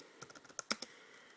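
Typing on a computer keyboard, a short burst of about eight quick key clicks, close and soft against a quiet background, with no talking.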